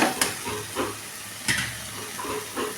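Chopped bitter gourd fries in a pan with onion and tomato, a steady loud sizzle broken by several sharp scraping stirs at irregular intervals.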